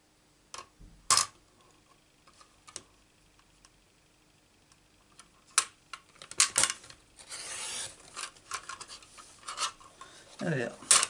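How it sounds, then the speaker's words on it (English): Card stock for a Stampin' Up greeting card is trimmed, giving scattered close snips, rasps and rubbing scrapes with quiet gaps, growing busier toward the end. "I need to cut that off and chop a bit more off of that."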